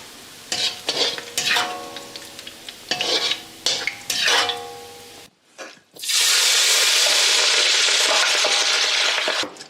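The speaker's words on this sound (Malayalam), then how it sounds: "നീളത്തിലരിഞ്ഞ ചെറിയ ഉള്ളി, അതും ഗോൾഡൻ ബ്രൗൺ കളറിൽ നല്ല മൊരാന്ന് വറുത്ത് കോരി മാറ്റി വെക്കുക" Sliced shallots frying in hot oil for a beef fry, with stirring clinks and scrapes at first, then a loud, steady sizzle after a brief pause.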